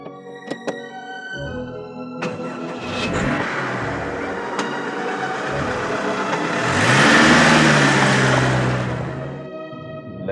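A taxi car engine running as the vehicle drives, a steady mid-pitched hum that swells louder toward the end, with a few sharp clicks early on and a voice speaking over it.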